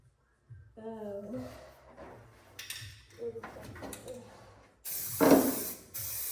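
A hissing aerosol spray of coating onto a 1979 GMC dually truck bed bursts on loudly near the end, following a stretch of voices and clattering handling noises.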